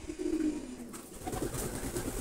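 A flock of pigeons feeding outdoors coo softly and steadily in low, throaty murmurs, with faint rustling and background ambience, no talking.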